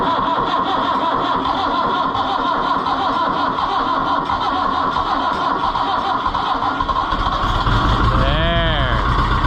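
Oliver 1365 tractor engine cranking over and catching, loud and close, a rough mechanical churn throughout that shifts into a rising rev near the end.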